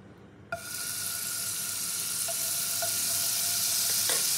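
Butter hits a hot pan and bursts into a loud, steady sizzle that holds close and bright for several seconds, ready for frying paneer for a restaurant-style butter paneer.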